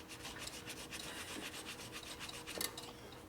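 A rag rubs back and forth to clean sealer residue from a 1967 Harley-Davidson 74ci Shovelhead FLH transmission part, a quiet, rhythmic scrubbing swish repeating steadily at close range.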